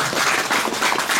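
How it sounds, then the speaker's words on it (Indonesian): An audience claps for Ibu Carida at an official visit to a pesantren in Brebes, with dense, steady applause from many hands heard close and loud through the brief stretch. "jadi tepuk tangan untuk Ibu Carida"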